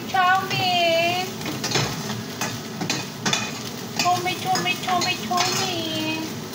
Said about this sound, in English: I'm cooking chow mein.